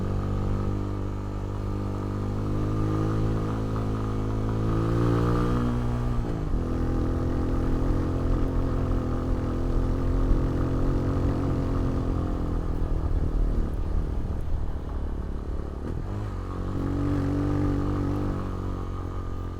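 A motorcycle climbs a steep dirt trail in Bamban, Tarlac, its engine close and continuous, the pitch rising and falling as the rider shifts and eases the throttle on the ascent.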